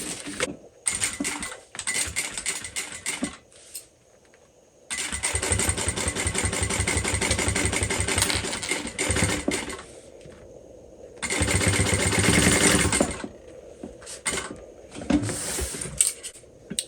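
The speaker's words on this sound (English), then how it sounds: "I'm only going to top stitch through this exterior part." A sewing machine topstitches the exterior of a crossbody bag in long, loud, fast-stitching runs with pauses between them, and the motor's steady whir is close and clear throughout, with no talking.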